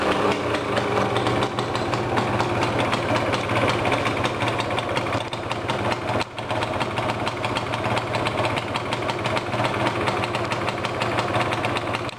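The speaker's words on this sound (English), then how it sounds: "Now, let's start the bike and hear to its sound." A Yamaha TZM 150 motorcycle engine idles with a steady, close, buzzing two-stroke drone that holds even and loud throughout, with no talking.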